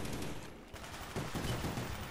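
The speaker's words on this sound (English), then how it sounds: "I just got a headshot with the 1911 and wasn't even aiming at his head" Pistol fire from a 1911 in Call of Duty Black Ops, on the Jungle map, sounds as a few sharp shots over steady, noisy game ambience at moderate level.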